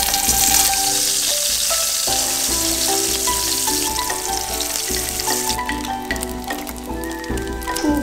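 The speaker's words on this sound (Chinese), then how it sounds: "放锅里炸" Flour-coated fish deep-frying in hot oil, a loud, steady, dense crackling sizzle that continues without break, with music playing along underneath.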